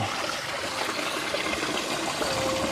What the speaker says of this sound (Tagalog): Lalong lumakas yung tubig.